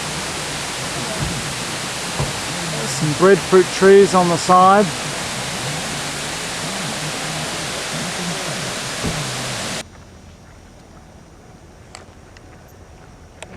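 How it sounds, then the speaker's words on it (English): A big roadside waterfall near Hana on Maui produces a steady, broadband rushing roar. Someone talks briefly over it, and then the sound cuts to a much quieter background. "this is a big waterfall on the side of the road"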